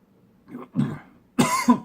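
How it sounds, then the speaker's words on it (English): A couple of low throaty hacks build into a louder, rougher cough burst after swallowing wrong, close and clear with no speech. "Excuse me as I cough."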